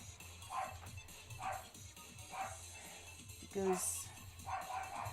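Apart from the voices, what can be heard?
dog barking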